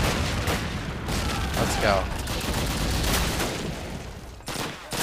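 Machine gun fire in Call of Duty crackles as dense, rapid bursts of loud gunfire with booming blasts throughout, and someone speaks briefly over the barrage.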